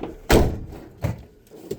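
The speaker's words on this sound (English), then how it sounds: "that bucket likes to fall out the vent every time we open the door" A bucket tumbles out of a vent as a door opens, giving one loud thudding impact followed by two smaller knocks and clatters in a quiet room.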